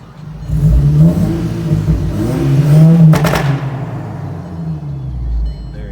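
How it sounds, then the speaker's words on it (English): Volkswagen MK6 GTI engine with a CTS catless downpipe and COP 3-inch exhaust revving in loud swells, rising and falling several times over a steady idle rumble, with a sharp peak near the middle. "let me just give y'all some quick revs"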